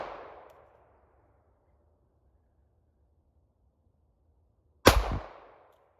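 A single sharp handgun shot cracks out at a shooting range, loud and close, with a short echoing tail fading quickly into quiet.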